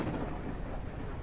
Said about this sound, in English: Prepare for lightning sounds.